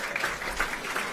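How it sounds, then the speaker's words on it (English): An audience at the 2018 Phelan Mostyn Medal night gives a short burst of steady applause, a dense wash of many hands clapping. "We'll give him a round of applause."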